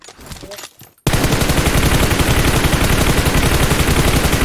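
Heavy, continuous gunfire in the mobile battle royale game PUBG Mobile, with the M24 sniper rifle in play, loud and sustained after a brief stretch of quieter sound at the start.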